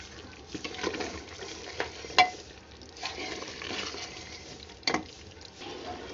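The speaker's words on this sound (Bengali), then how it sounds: "এবার এই মাংসের মধ্যে আমি ভেজে রাখা মশলা, ধনে গুঁড়ো, জিরে গুঁড়ো দিলাম। আবারও ভালো করে কষাবো।" Beef for biryani is sautéed with fried spices, ground coriander and cumin in a pan, giving soft moist stirring and scraping strokes over a low sizzle, with a few sharper spoon knocks, close and without talk.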